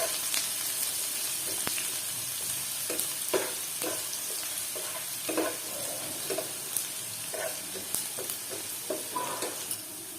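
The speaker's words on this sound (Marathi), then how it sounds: "तेलामध्ये हा कापलेला एक कांदा घालून घेऊया. आणि चांगला परतवून 2-3 मिनिटं भाजून घेऊया," Chopped onion frying in hot oil and being stirred, a constant crackling sizzle with irregular spatula scrapes and clinks against the pan throughout, close and steady, no talking.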